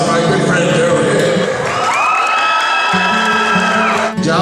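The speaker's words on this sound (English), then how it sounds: "please give the warmest and the loudest round of applause for my good friend Joe here" A crowd at a church-style gathering cheers and applauds a guest speaker named Joe, with whoops and shouts over clapping and music playing beneath.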